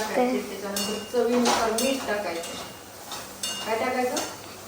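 A spoon stirring kantule (spiny gourd) vegetable in a metal cooking pot, with clinking scrapes against the pot in bursts amid a light sizzle, close up.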